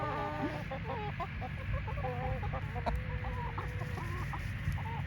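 A broody hen outdoors on pasture clucking near a dust-bathing spot, with a continuous run of close, throaty murmured clucks and other chickens faintly about, no talk.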